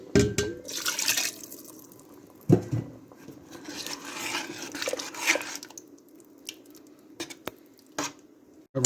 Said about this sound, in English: It's awfully thick, so I'm gonna add some more water.